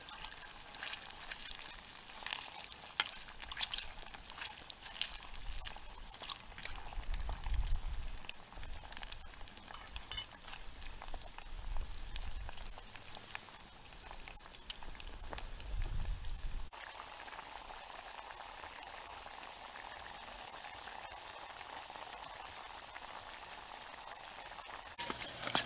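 Potatoes fry in hot oil in a pan over a campfire, a continuous close crackling sizzle that thickens in the middle, then settles into a softer, even hiss for the last third.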